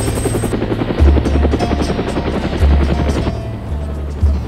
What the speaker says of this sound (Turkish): Helikopter iniş yapıyor.